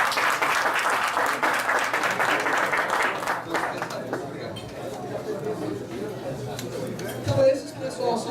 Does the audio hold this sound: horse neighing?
no